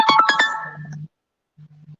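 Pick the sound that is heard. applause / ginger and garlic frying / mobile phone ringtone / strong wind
mobile phone ringtone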